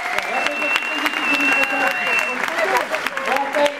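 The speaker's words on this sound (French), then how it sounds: "on peut l'applaudir" Audience applause at the Imagine Cup 2012 student digital-innovation competition: dense, loud, steady clapping throughout, with voices and cheers mixed in.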